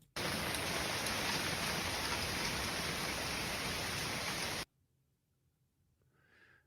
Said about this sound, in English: this is my backyard in this little hailstorm we got